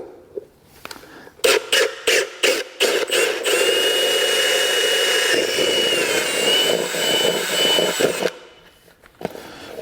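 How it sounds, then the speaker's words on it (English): A power drill whirs in a few short bursts, then runs steadily for several seconds before stopping, drilling a hole; close and loud. "drill one right out of the center"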